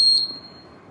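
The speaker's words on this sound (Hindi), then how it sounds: "जैसे ही हम दोनों तारों को मिलाएंगे तो हमें बजर की बीप की साउंड सुनाई देगी।" A homemade battery-powered component tester's buzzer gives one short, shrill, piercing beep right at the start, close and loud. It then fades into faint room noise.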